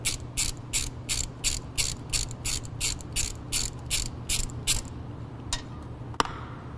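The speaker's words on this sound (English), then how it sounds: "Loosen the drain plug." A socket ratchet loosens the differential drain plug under a UTV's skid plate, producing a close run of about a dozen evenly spaced clicking strokes, then a few isolated clicks and a sharp knock.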